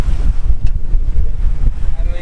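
Sailboat under way in the Mediterranean near Es Vedrà, bound for Formentera, with steady wind roar buffeting close over low water rush and hull noise for a couple of seconds and no clear speech.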